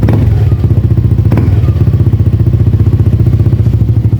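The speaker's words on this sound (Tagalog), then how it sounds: "try din natin kung maandar yan marinig nyo aftermarket na yung kanyang tambucho" A motorcycle fitted with an aftermarket exhaust idling loudly close by, with a steady, rapid thumping pulse throughout and a brief clatter near the start.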